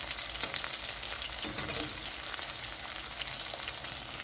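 Salted bitter gourd slices frying in hot oil for a shukto, a continuous close sizzle with faint stirring scrapes and small pops, with no one speaking.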